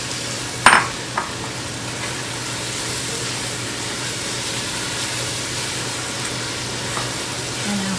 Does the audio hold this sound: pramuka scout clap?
no